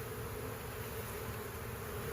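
A fall swarm of honeybees clustered in a small pile near a bee yard gives off a continuous, even buzzing hum, soft and steady throughout with no pauses or voices.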